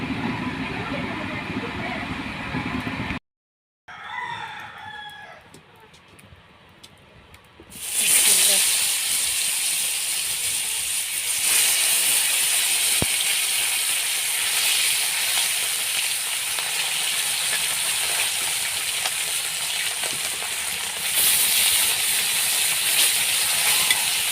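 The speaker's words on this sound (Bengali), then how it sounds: "আর এই যে কই মাছগুলো আমি হলুদ লবণ মরিচ দিয়ে মেখে রেখেছি এগুলো তেলে ভাজবো" Koi fish coated with turmeric, salt and chili hit hot oil with an abrupt loud sizzle that then holds as a steady, dense frying hiss, after a quieter stretch at the start.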